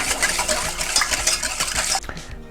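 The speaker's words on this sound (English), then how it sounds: "We're going to mix this up" A utensil stirs a marinade of soy sauce, water, brown sugar, vegetable oil and ginger in a bowl, with quick close clinking and swishing scrapes that stop abruptly near the end.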